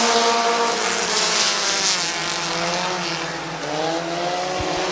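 Race cars roaring around the oval at Midvale Speedway, a loud continuous engine drone with rising and falling pitch as the pack passes, steady and close with no talk over it.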